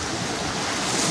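Mediterranean Sea waves washing onto a sand-and-pebble hotel beach in Antalya, Turkey, a loud, steady roar of surf mixed with wind noise in a brief stretch without talk.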